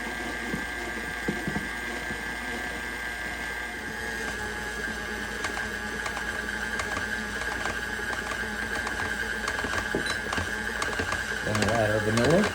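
A stand mixer with a paddle works scone dough on low speed, giving a steady whirring motor drone with rhythmic clicking and thumping, close by, while a person talks over it.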